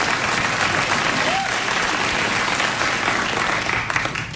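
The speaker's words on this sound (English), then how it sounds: "You just gave a round of applause to a cup." Studio audience at a late-night talk show applauding a cup brought by a guest, a dense, steady round of clapping that fills the room and tapers slightly at the end.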